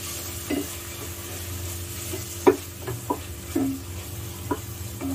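Coriander and four whole green chilies sautéing in a pan for Mysore-style chicken biryani give a low, steady sizzle, broken by a few sharp stirring clicks and scrapes against the pan.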